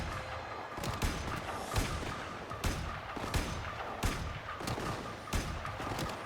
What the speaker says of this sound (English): So there's Grineer over there that are shooting at me.